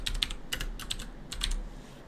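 Quick clusters of keystrokes on a computer keyboard entering field notes, crisp and close, coming in short bursts with brief pauses between them over a low background hum.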